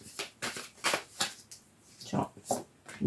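Tarot cards being drawn from a deck and handled one by one, heard as close, repeated papery slides and flicks in an uneven rhythm, with no talk over them.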